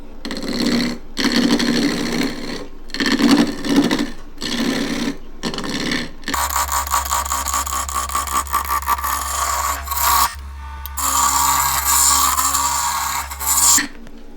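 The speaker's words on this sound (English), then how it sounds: "I'm going to be roughing this down with a 1-inch continental roughing gouge" Wood lathe roughing down a wig stand blank with a 1-inch continental roughing gouge, giving a scraping, rasping cut in rhythmic bursts that then settles into a steady, close whirring cut with a low hum underneath.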